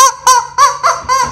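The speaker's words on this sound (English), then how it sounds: "We got a squeaky, squeaky chicken that is going to drive everybody freaking crazy." Squeaky chicken dog toy squeezed in a pet store, giving five loud, honking rubber squeaks in a steady rhythm, close up and alone.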